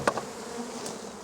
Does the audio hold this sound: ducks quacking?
no